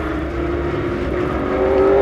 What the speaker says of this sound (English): It's a swarm of super late models up and down this track.